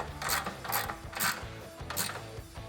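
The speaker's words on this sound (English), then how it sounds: "take my 13mm socket on my 3/8 ratchet and tighten this one up here" A 3/8-inch ratchet with a 13mm socket tightens a bolt holding a side step or rocker guard on a 2021-2023 Ford Bronco. Four bursts of quick pawl clicking come close and fairly loud, one after another, with short pauses for each return swing.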